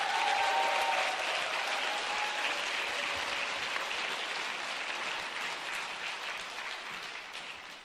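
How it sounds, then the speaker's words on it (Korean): A Korean church congregation gives a sustained round of applause welcoming an elder to the pulpit during a Sunday afternoon service, even clapping that slowly tapers off toward the end. "우리 나오실 때 박수로 환영하겠습니다"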